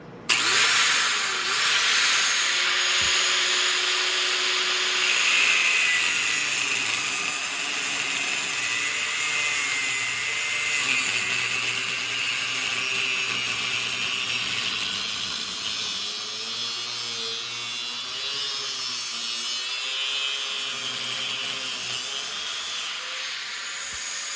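A grinder cuts through metal motorcycle exhaust tubing with a loud, sustained whine and gritty abrasive hiss that wavers slightly in pitch as the disc bites, running steadily for the whole stretch.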